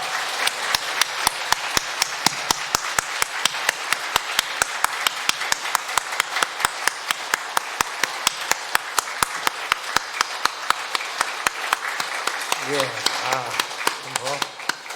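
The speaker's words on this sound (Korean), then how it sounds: "우리 모두 힘찬 박수로 주께 영광 돌리겠습니다" Church congregation clapping in steady, fast unison at a Korean Easter Sunday service, sharp claps evenly spaced and close for the whole stretch, with a brief murmur of voices near the end.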